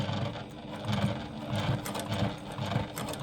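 A sewing machine runs close by in a soft, rhythmic mechanical whirr with regular pulsing thumps, steady and alone without talking.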